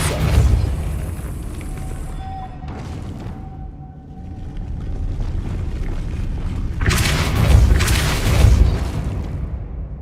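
A Depulso spell strikes in the video game Hogwarts Legacy with a loud booming blast and rumbling burst, set against ongoing game ambience and a brief tonal hum.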